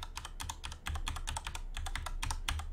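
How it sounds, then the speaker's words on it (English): Loud mechanical keyboard clacks under fast, steady typing, a dense run of crisp close key strikes with no talk over it. "I know mechanical keyboard is loud as hell."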